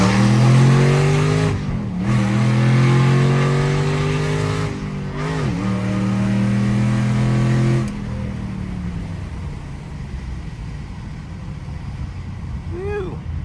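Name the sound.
2010 Mustang GT accelerating hard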